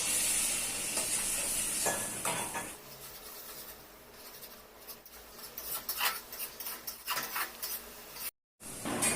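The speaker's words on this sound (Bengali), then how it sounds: "দিয়ে দিচ্ছি মশলার বাটি ধোয়া জল।" Water from rinsing a spice bowl poured into mustard paste frying with spices for a Bengali parshe fish curry, a loud hissing sizzle at first that settles into softer bubbling with scattered stirring scrapes and clicks.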